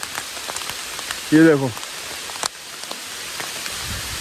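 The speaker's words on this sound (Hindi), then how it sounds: "और बहुत तेज़ बारिश आ गई है।" Heavy rain and hail pour down at Khaliya Top, a 12,500 ft mountain near Munsiyari, as a steady, dense hiss that lasts throughout, with a brief burst of a voice partway in.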